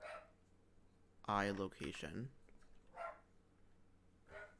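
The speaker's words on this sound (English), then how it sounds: "I'm sorry for the barking. My dogs are going insane." A dog barks loudly a few times, with fainter yips trailing after, while a person speaks briefly nearby.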